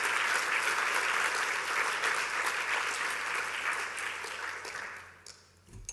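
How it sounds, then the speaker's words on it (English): Loud, dense audience applause following a talk on close reading videogames at a games conference, sustained and even before tapering off at the close. "Clapping works too."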